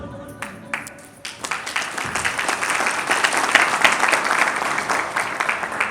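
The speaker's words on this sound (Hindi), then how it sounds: "ये ऐसा टॉपिक नहीं है कि आप मेरे लिए तालियां बजाएं" An indoor audience at a talk applauds. The clapping starts thin, swells into steady, dense applause and holds at a moderate level.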